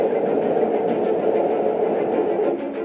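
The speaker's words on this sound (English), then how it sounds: "I hopped on a train." A steady rumbling train ride, a continuous low roar of wheels and carriage noise with no talking.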